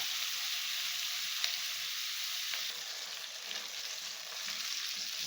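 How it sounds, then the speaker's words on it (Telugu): Onions and garam masala frying in oil for a chicken curry, a soft, even sizzle with faint crackles running throughout, no voices. "ఇది ఆయిల్లో వేపాలి ఇంకా బ్రౌన్ కలర్ పచ్చగా అంటే నూనెలో ఫ్రై కావాలి"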